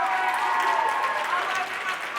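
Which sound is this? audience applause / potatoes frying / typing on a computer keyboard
audience applause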